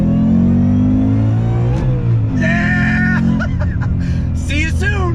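A Shelby Super Snake Mustang's engine revs on throttle, with a loud, rising mechanical roar that climbs in pitch and surges again, while voices and laughter break in toward the end.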